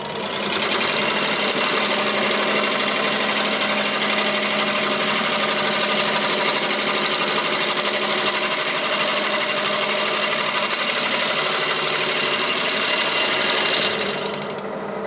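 A wood lathe takes an aggressive 5/16-inch roughing cut on a spalted maple bowl, producing a loud, steady, continuous grinding roar that holds unbroken for the whole stretch before dropping away abruptly at the end.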